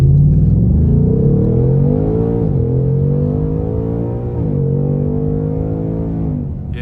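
A Ford Mustang Mach 1 V8 accelerates hard with a deep rising roar, with two clear dips where gears shift before it climbs again, loud and close with no talk.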